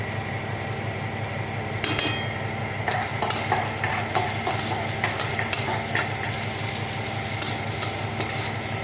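Chopped green chillies frying in a pan for a duck egg and new potato curry, stirred with a utensil: a steady close sizzle broken by repeated scraping and clinking strokes against the pan, with no talk.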